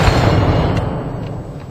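A British 7-pounder gun, set off by a friction primer, fires with a loud, close boom that rolls into a rumbling, fading tail; no voices.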